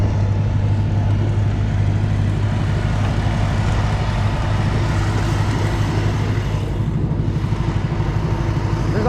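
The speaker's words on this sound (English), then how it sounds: "I'm impressed on how the tractor is not stalling right now." A tractor engine idles and runs steadily in snowy conditions, a constant loud low drone with a slight chugging texture and no speech.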